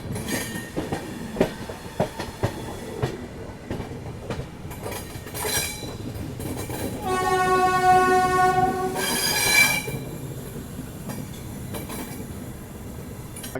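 Tirupati Jammu Humsafar Express running near Delhi, with steady rumble and rhythmic wheel clatter, a long horn blast in the middle and distant squeals fading back to rolling noise.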